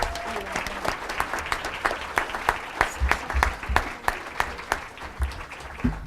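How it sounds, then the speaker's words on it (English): Audience applause for Shore Middle School at a school stage event, a steady patter of many hands clapping throughout, moderately loud with a few sharper individual claps standing out. "Let's give Shore Middle School a round of applause."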